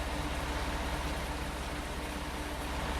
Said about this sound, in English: It's not raining too hard at the moment.